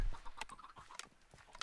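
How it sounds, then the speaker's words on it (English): Minecraft chickens clucking in short, scattered bursts, a few quiet clucks and squawks spread across a brief stretch with no talk. "Oh, there's more chickens. More adult chickens."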